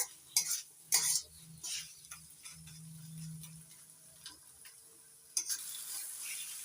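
Green chili paste stirred in a pan over medium flame makes soft scraping and stirring strokes with a faint sizzle, plus occasional louder clinks of the spatula against the pan.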